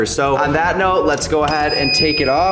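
Someone talks loudly over a repeating electronic beep that pulses steadily underneath, with a thin high tone joining partway through.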